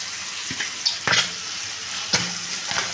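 Fried eggs go into a pan of potato and chichinga (snake gourd) curry, with gentle, close sizzling and a few soft knocks and scrapes as they are stirred in.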